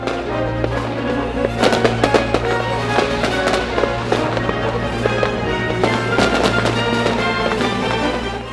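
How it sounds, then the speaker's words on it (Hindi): Fireworks crackle and pop continuously at an Independence Day celebration with a parade and concerts, dense overlapping bursts and sharp bangs over a steady low hum, with no talking. "जश्न आज़ादी पर होने वाली आतिशबाजी से आसमान रंगो नूर से भर गया।"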